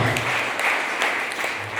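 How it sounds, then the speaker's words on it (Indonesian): Guests at a wedding blessing ceremony applaud, a steady, moderately loud wash of clapping from a gathered crowd that runs through the short stretch. "Mari kita beri tepuk tangan buat Tuhan Allah kita"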